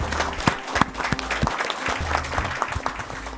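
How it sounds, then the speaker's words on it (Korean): Applause in a formal cabinet meeting room welcoming a newly appointed prime minister at his first cabinet meeting, a room of officials clapping steadily with sharp individual claps, close and moderately loud, with no talk. "우리 박수 한번 드릴까요?"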